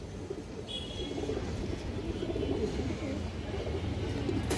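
A restless pigeon at a pigeon farm gives low, muffled cooing, faint and partly buried under continuous background noise with a few faint chirps.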